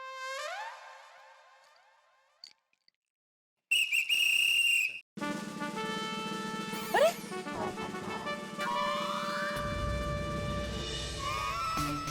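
A sharp, shrill whistle is blown hard by an elderly man in a residential housing society courtyard, one loud sustained blast in the middle, set among lighter tonal music and sound effects.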